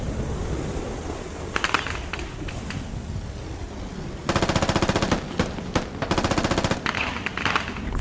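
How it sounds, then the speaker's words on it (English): Tank ammunition cooking off in the game Squad, with scattered pops at first and then two loud, rapid bursts of crackling detonations like sustained machine-gun fire, with brief pauses between them. "And the tank's gonna cook off."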